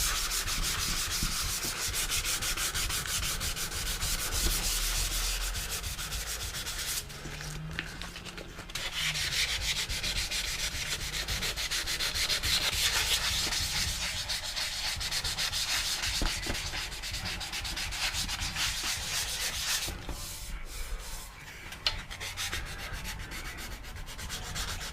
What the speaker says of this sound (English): So we'll give the rest of it a nice scuff.